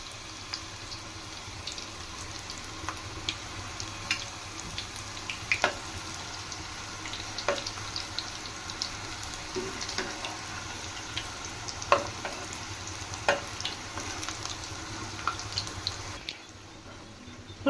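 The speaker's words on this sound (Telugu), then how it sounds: "ఇప్పుడు ఒకటిగా వేసుకొని ఆయిల్లో డీప్ ఫ్రై చేసుకోవాలండి" Sweet dough pieces deep frying in hot oil over a medium flame, a steady, even bubbling sizzle with occasional light clicks of a utensil, continuous and unaccompanied by speech until it cuts off near the end.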